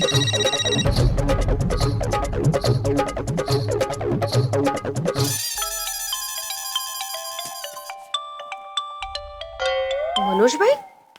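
A telephone rings over and over with nobody picking up, its electronic ringing pattern sitting among rhythmic music and other tones, moderately loud throughout.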